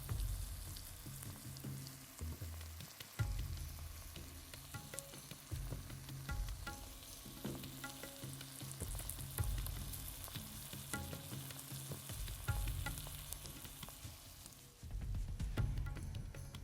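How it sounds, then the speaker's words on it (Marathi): Cut okra frying with spices in a hot pan while being stirred, giving a steady, loud, hissing sizzle with scattered crackles and occasional scraping throughout. "आता आपण कापलेली भेंडी त्यात टाकून फ्राय करून घेऊया."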